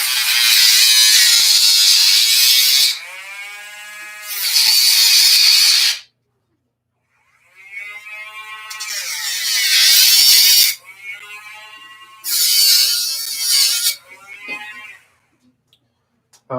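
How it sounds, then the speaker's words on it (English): A Dremel rotary tool cutting during model railroad work, a loud high-pitched whine that runs in several bursts lasting a few seconds each, separated by short pauses and one full stop. "I just made a cut with the good old trusty Dremel."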